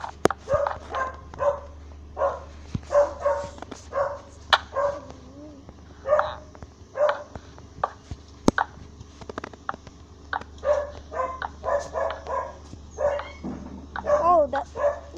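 A dog barks in the Minecraft Pocket Edition video game, giving a long run of short, fairly quiet yips and barks at an uneven pace over a low steady hum.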